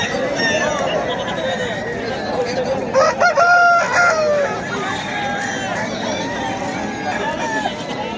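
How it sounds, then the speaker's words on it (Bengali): Roosters crow at a crowded cockfighting fair, a few loud, drawn-out crows in the middle rising over a steady background of crowd chatter and clucking fowl. "এখানে বড় বড় মুরগি আছে"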